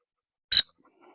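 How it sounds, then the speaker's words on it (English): A single short, sharp blast on a dog training whistle, a high piercing tone lasting a fraction of a second, heard alone against silence. "She is trained on a whistle, so I'm sorry about the noise"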